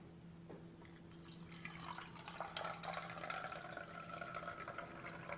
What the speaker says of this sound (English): As we pour this out,